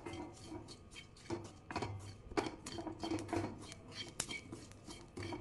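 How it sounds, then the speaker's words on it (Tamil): A spoon stirring fenugreek, curry leaves and amla powder in a pan over a low flame, with repeated scraping and clinking against the metal, close and fairly quiet. "இது நான் ஃப்ளேமை வந்து ஸ்லோவாகவே வச்சு நல்லா மிக்ஸ் பண்ணி கொடுங்க"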